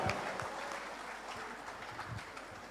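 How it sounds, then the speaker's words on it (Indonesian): Audience applause at a church congregation event (GBKP), a steady wash of clapping hands filling the whole stretch at moderate level, with faint voices mixed underneath. "Kita berikan sekali lagi apresiasi tepuk tangan yang luar biasa"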